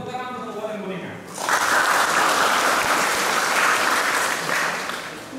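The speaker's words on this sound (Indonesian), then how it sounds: "Jadi tepuk tangan untuk Kabupaten Kuningan." A seminar audience breaks into loud, dense applause after a speaker's closing line, a sustained wash of clapping that holds steady for several seconds before tapering off.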